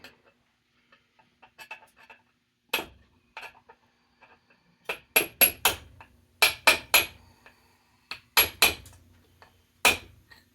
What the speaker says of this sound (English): We got a little brass hammer.